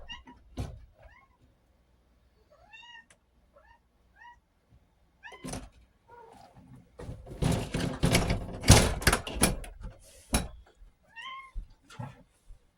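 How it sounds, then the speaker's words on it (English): A house cat meows repeatedly outside a door, clear close cries spaced out with a burst of thumping and rattling at the door in the middle. "Oh, my cat wants in."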